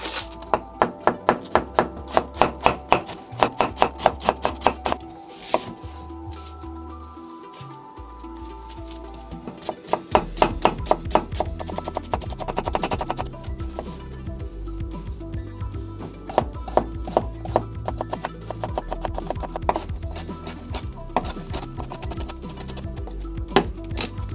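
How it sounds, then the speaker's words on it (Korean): A knife chops cabbage on a cutting board in quick, rhythmic runs of sharp thuds, with short pauses between bursts and a steadier stretch of faster cutting later on. "양배추를 가볍게 썰어줄게요"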